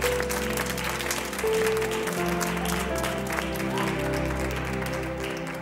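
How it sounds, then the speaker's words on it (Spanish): A television studio audience applauds over a sustained bed of music, the clapping steady and fairly loud across the whole stretch without any clear talk on top. "Un aplauso para Glory y estos zapatos maravillosos."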